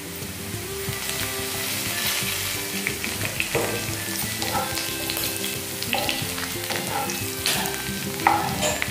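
Browned onions frying in a pan as asafoetida is added, giving a steady close sizzle with stirring scrapes and clinks throughout, alone without talk.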